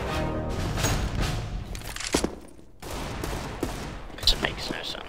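Counter-Strike: Global Offensive deathmatch gunfire, scattered sharp shots and short bursts at moderate distance, mixed with other game noise and a voice talking.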